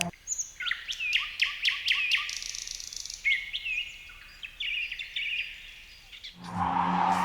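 Birdsong dubbed over countryside footage: repeated bright chirps and trilled whistles in quick, uneven phrases, fairly close and clear, ending in a brief burst of broadband noise.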